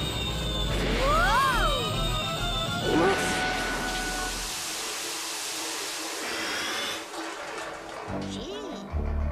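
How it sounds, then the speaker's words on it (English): A cartoon spaceship crashes in a Care Bears story: swooping whistles and crashing, rumbling effects build and tumble across several seconds, ending in a few softer clatters, with a character's excited vocal sounds mixed in. "The spaceship is crashing!"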